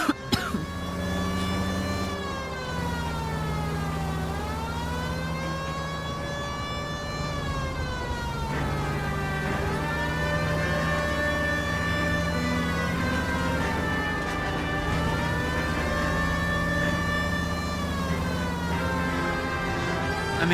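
A police car siren wails in the video game L.A. Noire, cycling up and down in long, slow sweeps over a steady engine hum for about twenty seconds, fairly faint and with no talking.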